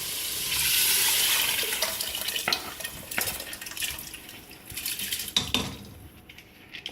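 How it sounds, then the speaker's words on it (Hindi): Soaked white mash dal being poured with its soaking water into a pot, a close splashing pour with clinks of dishes and utensils, quieter handling toward the end, no talk. "जिस पानी में मैंने भिगोई है उसी पानी समेत मैं इसको डाल दूँ"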